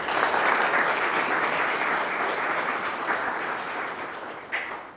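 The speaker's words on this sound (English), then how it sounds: "Let's give him a round of applause." An audience at a data science and statistics lecture applauds to welcome the lecturer Chris, a steady, even wash of clapping that slowly thins toward the end.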